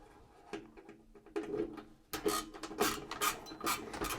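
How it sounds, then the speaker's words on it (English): Screws being undone while a PowerXL kitchen appliance is taken apart, close scraping and rubbing of a screwdriver, with soft clicks at first, then louder grinding twists in quick succession. "I'm just going to go in and undo screws"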